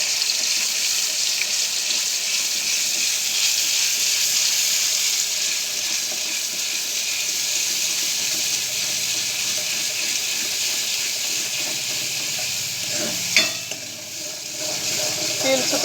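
Tomato and coconut mixture frying in oil with cumin and mustard seeds, a steady close crackling sizzle that runs throughout with faint stirring, briefly dipping near the end.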